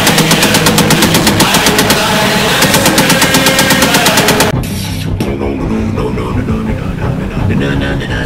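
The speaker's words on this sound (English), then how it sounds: "It's a machine gun." Machine gun fire in the video game Detroit: Become Human: loud, rapid, continuous bursts of automatic shots that stop abruptly, giving way to a lower game rumble.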